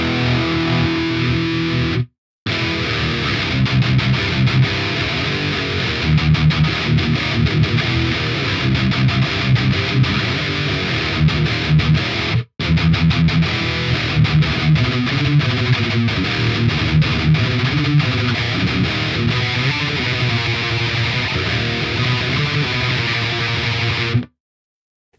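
Heavily distorted electric guitar runs through an amp simulator set for scooped-mid, old-school thrash and death metal tones, playing dense sustained riffs with two brief full stops.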